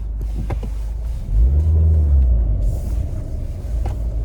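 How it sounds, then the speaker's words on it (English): A cheap supercharged Mini Cooper drives along with rusty brakes, its engine rumbling low and swelling briefly in the middle, with faint intermittent scraping noises over the road hum. "That brake noise does not want to go away."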